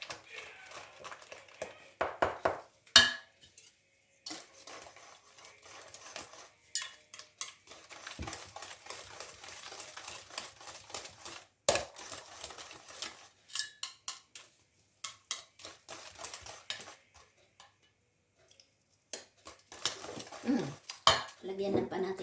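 Cream being mixed with a utensil in a bowl for a coffee tiramisu: repeated clinks and scrapes of metal against the bowl in uneven bursts, close and fairly quiet, with short pauses and a longer lull near the end.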